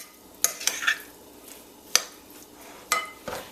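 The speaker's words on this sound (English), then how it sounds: "So give that a nice stir." A spoon stirs Caribbean-style tuna sandwich spread in a bowl with a few sharp, separate scraping clicks and taps spaced irregularly over a quiet background, close by, with no speech.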